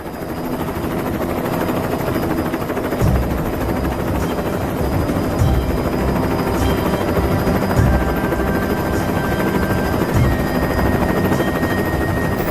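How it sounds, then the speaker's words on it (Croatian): A rescue helicopter flies over Amazon river country with a loud, constant rotor and engine roar that stays steady throughout, with no speech. "Nakon pola sata leta helikopter dolazi nad ciljano područje."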